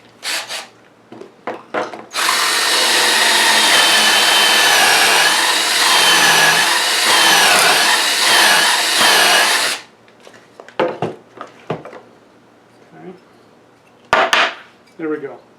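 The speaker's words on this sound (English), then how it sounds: "so I'm going to drill that hole there" A power drill whirs loudly and steadily for several seconds, boring a hole into wood, framed by short knocks and handling clatter before and after.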